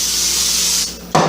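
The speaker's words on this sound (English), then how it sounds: "make sure you spray your pans" Cooking spray hissing onto metal baking pans for a batch of caramel rolls, a steady close aerosol spray lasting most of the moment, then a brief sharper rub or clatter at the end.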